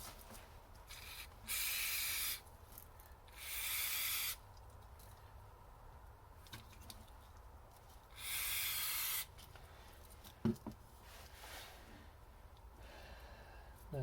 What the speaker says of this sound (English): This is contact cleaner.